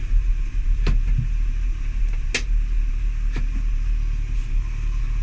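A Renault Twingo engine idles in a low steady rumble, close up, with a few brief clunks and knocks as someone tries and fails to engage a gear.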